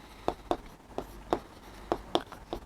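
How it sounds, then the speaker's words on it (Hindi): Writing by hand produces a series of about eight short, quiet, scratchy strokes at an uneven rhythm against a soft background. "तो बच्चों हम लिखेंगे"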